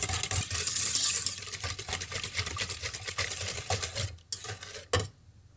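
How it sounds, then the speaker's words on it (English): A spoon stirs eggs into a bowl of chocolate brownie batter, giving a quick run of close, wet scraping and clinking that fades out near the end. "give it a good stir"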